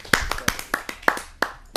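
Scattered handclaps from an audience at a Hindi kavi sammelan poetry gathering, about seven sharp, uneven claps in under two seconds, fairly close and moderately loud, with no talk over them.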